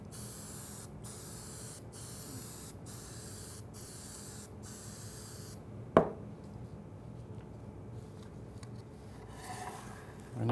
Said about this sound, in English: So just a quick, easy spray here.